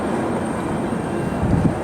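A gray-painted American Airlines airliner passes during snowfall at Cleveland Hopkins airport, its jet engines producing a steady, loud roar that swells slightly near the end.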